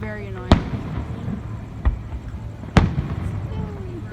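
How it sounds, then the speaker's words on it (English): Fireworks at a 4th of July show in Palm Springs burst in three sharp, separated booms over a crowd's murmur and voices, with faint whistling trails between them. "Doing little fireworks."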